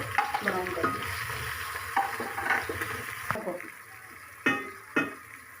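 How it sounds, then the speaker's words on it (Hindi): Ginger browns in hot oil left from frying onions, a close hiss and crackle with spoon scrapes and clinks against the pan; the sizzle thins partway through, and a voice seems to murmur faintly early on. "फिर ये अदरक अंदर ही डालूँगी, ब्राउन हो जाएगा। इसी ऑयल में जिसमें मैंने इनको तला है, इसी ऑयल में मैं इसको ब्राउन कर दूँ।"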